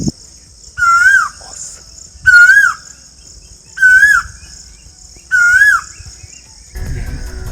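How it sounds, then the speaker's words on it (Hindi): Asian koel in an Indian village giving four loud, evenly spaced rising calls over a constant high insect buzz, followed by a brief rustle. "ये कोयल है जिसकी आवाज़ आप सुन रहे थे।"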